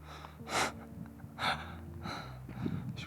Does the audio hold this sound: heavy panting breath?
yes